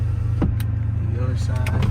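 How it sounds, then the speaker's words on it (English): A 1989 Porsche 911 Carrera coupe's power window motor runs with a steady whirring hum over low engine idle, punctuated by brief clicks and short voice-like bursts. "We'll show you guys power windows. Go up and down nice and fast."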